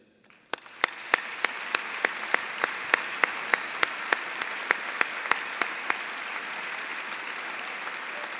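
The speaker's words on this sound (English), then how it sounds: "will the class of 17 please join me in a round of applause to thank them for their help throughout the year" Crowd applause for high school faculty and staff at a 2017 commencement ceremony, a broad steady wash of clapping with sharp camera-flash-like clicks at regular intervals, rising quickly and holding loud throughout.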